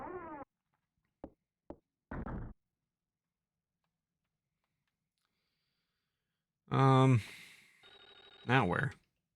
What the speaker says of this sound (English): Is that the phone ringing again?